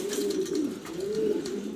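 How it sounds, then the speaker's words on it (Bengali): Female racer pigeons coo steadily up close, a low warbling, rolling call that rises and falls continuously with soft rustling in the background and no talk. "এগুলো সব মাদি কবুতর"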